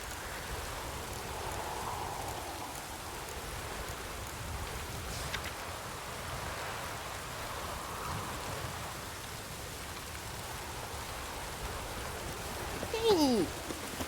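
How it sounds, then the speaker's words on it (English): Steady, even rain hissing throughout at moderate level in The Witcher 3: Wild Hunt video game, with a brief sharper sound near the end. "Let it rain."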